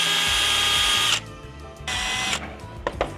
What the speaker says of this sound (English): So we're actually going to drill right on it.